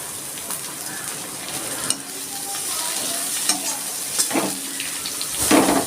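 Onions with garlic and ginger fry in a pan, a steady close sizzle broken by several stirring scrapes and clicks of a spatula, growing busier toward the end, with no voices.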